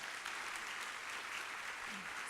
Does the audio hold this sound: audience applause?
yes